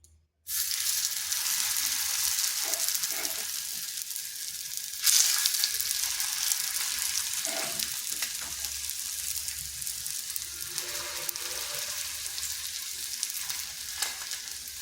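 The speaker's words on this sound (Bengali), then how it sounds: "একটা তাওয়া বসিয়েছি আর খুবই সামান্য তেল দিয়েছি এরপর এগুলোকে দিয়ে দেবো" Kids' tiffin snacks fry in a little oil on a tawa over slow to medium heat, a steady close sizzle holding for the whole stretch and briefly flaring louder midway, with no talking.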